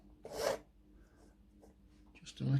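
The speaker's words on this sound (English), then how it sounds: "rub, just to get rid of that flash" Brief scraping rubs as moulding flash is cleaned off a plastic Tamiya King Hauler model kit part, one short rasp followed by quieter scratches and another rub at the end, close and quiet.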